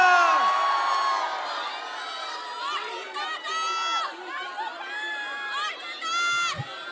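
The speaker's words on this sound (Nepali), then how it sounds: "उहाँको लागि पनि जोरदार ताली" A large concert crowd at a Nepal Festival in Tokyo, Japan, cheering and whooping for a singer, with shrill voices, shouts and crowd chatter rising and falling steadily throughout.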